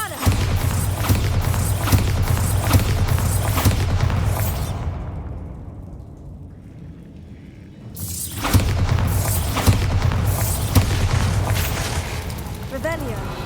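Booming spell blasts in Hogwarts Legacy, heavy explosive bursts with shattering debris, loud at first, dropping to near quiet midway before another blast and rumble return, with a voice casting spells over it.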